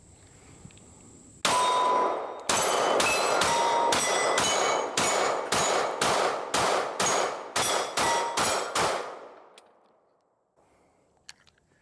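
Rapid pistol fire from an S&W Shield X rings off a steel dueling tree outdoors, a string of about a dozen sharp bangs each with a bright metallic clang, fired in quick uneven rhythm before fading to quiet.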